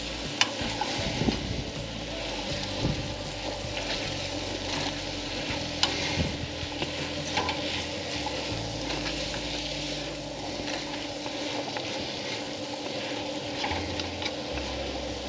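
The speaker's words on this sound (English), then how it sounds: "I got to stir up my apples." Apples being stirred in a pan with a spoon, giving a steady run of scraping and soft sizzling with a few sharper knocks near the start, close and alone with no talk.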